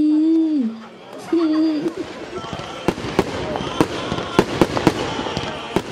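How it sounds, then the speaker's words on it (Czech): Voices and crowd murmur at an outdoor Christmas tree lighting give way to a series of sharp fireworks bangs and crackles, popping irregularly at a moderate distance. "Oblohu rozzářil velkolepý ohňostroj, který toto sváteční odpoledne zakončil."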